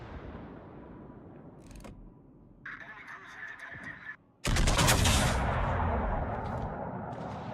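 Broadside from a warship's main battery in World of Warships, a sudden loud, dense burst of gunfire that rolls on and lingers after a quieter stretch, with speech heard earlier.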